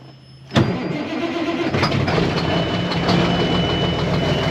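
A K100 truck engine cranks briefly on a cold start and catches with a sudden roar, then settles into a steady, loud idle close by.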